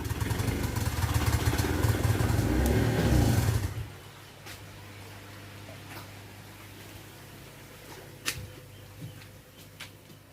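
A generator runs loudly with a steady engine drone during a power outage, then cuts off at about four seconds, leaving quiet room noise and a few faint clicks.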